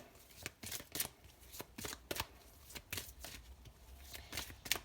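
Tarot cards being shuffled by hand, a quick run of crisp riffling flicks and soft slaps repeating close up, with no talking.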